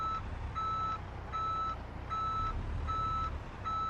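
A Peterbilt 389 heavy-haulage truck's reversing buzzer in Euro Truck Simulator 2 sounds in a steady series of about five evenly spaced electronic beeps over a low engine rumble.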